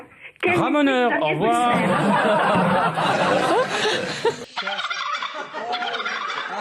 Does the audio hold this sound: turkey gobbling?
yes